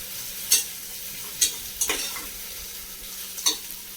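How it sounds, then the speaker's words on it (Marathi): Ginger garlic paste sautéing in a pan, a soft low sizzle under a handful of separate spoon scrapes and stirs spaced about a second apart, close and quiet. "आले लसूण पेस्ट आपल्याला चांगला त्या कच्चापणा जाईल असे परतून घ्यायची"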